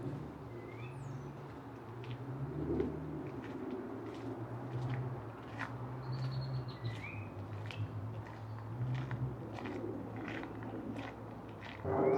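Sora calls ring out outdoors amid scattered bird chirps and soft low cooing, repeated intermittently over a quiet ambient background.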